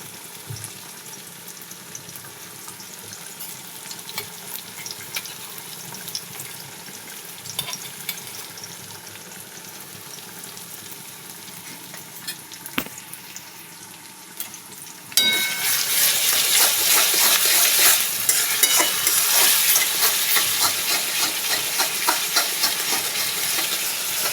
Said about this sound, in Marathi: चांगलं परतून घेऊया ब्राऊन शेड होईपर्यंत चमचावर आलं आलं लसूण पेस्ट टाकते आहे